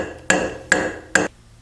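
A Bird Barrier StealthNet net spike, with a discrete head and bent shaft, is driven into a 4.8 mm hole in concrete or stone by three sharp, evenly spaced hammer blows, each ringing briefly. The blows are close-up and there is no talk.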